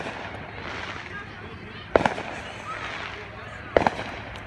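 Fireworks go off in a city street, with two sharp, loud bangs a couple of seconds apart, each followed by brief crackle, over a background murmur of people talking.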